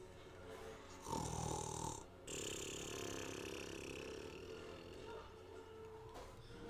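A voice imitates loud snoring: a short rasping snort, then a long, drawn-out guttural snore that rumbles steadily to the end, close and alone.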